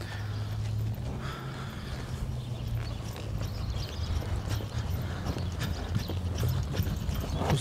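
Faint, even hoof clip-clop from a horse trotting during a training session, a steady rhythmic pattern heard from a distance with no talking.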